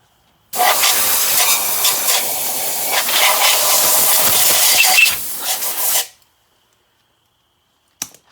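Brake cleaner sprayed onto a 1951 Buick Special engine block during head installation: one loud, close, steady hiss lasting about five and a half seconds, then silence and a brief click.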